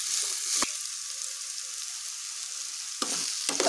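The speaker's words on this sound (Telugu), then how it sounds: "సొరకాయ ముక్కలు బాగా మగ్గనివ్వాలి." Bottle gourd pieces and green chillies fry in a pan with a steady hiss and sizzle, broken by a few sharp scraping stirs near the start and end, with no talk.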